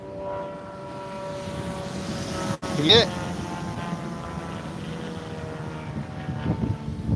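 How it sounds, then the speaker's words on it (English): A plane flying low overhead outdoors, a steady droning engine roar with a rising, swelling pass midway before fading back into the background, while people talk nearby. "Oh, I love this plane."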